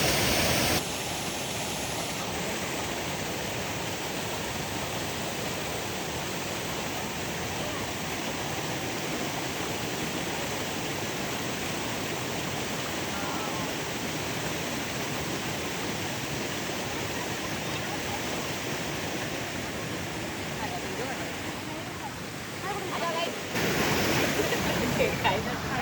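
The Mormarewadi waterfall near Kamshet, Pune, swollen in the monsoon, pours with a dense, even roar of rushing water that holds steady for nearly the whole stretch at close range.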